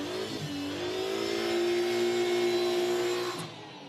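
A sports sedan with a 2.5-litre turbo Toyota engine accelerates hard down a sprint-event straight, its engine note rising steadily and loud for several seconds before easing off, with no talk over it.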